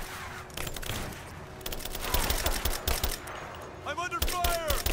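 Gunfire rattles through combat in Rise of the Tomb Raider, with dense bursts of automatic shots and single cracks over steady game noise, loud and close, while voices call out in between.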